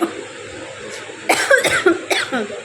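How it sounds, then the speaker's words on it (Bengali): A person coughs in a short burst of three or four harsh, close coughs late at night, preceded by a quiet stretch of faint room noise. "কাশি হয়ে যাচ্ছে"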